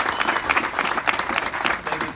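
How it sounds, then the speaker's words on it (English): A round of audience applause for the Secretary of Veterans Affairs at a public event, steady dense clapping from a crowd filling the whole moment with no voices over it. "could you give the Secretary of the VA another round of applause?"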